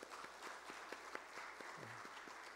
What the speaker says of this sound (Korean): 우리 큰 위로의 박수 또 한번 드리면 좋겠습니다